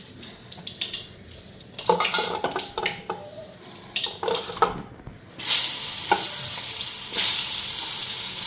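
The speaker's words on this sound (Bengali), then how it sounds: "আজকে তেলটা ফুটতে আসছে দেখো" Oil mixed with a little water bubbles and spits in a kadai, with scattered stirring clanks at first, then a loud, steady, close sizzle takes over.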